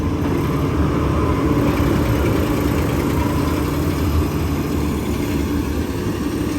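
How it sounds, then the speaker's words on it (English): A New Holland T9 tractor engine runs at a steady, loud idle close by, its continuous low rumble unbroken for several seconds with no talk. "We always use a T9 as our packing tractor"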